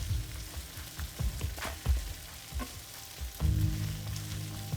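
Kimchi fried rice made with day-old rice crackles in a hot pan while a utensil presses and flattens it, giving soft repeated scraping thumps over a continuous close sizzle.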